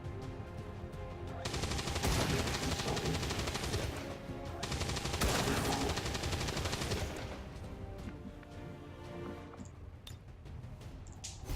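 A chain shot fires in the XCOM 2 video game: dense, sustained bursts of gunfire in two long waves, then a quieter rumbling tail.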